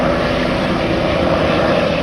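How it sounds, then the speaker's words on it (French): A helicopter flies away over New York City, a loud, steady engine and rotor roar filling the clip continuously with no breaks and no voices. "Donc voilà, l'hélico qui est parti."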